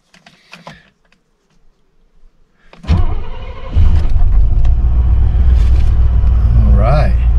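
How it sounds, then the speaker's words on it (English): A 1972 Mercedes-Benz 280SE 4.5 V8 cranks from cold with no throttle and catches, settling into a loud, steady low rumble after a few quiet clicks and pump sounds. "No foot on the gas, just let the cold start injector do its thing."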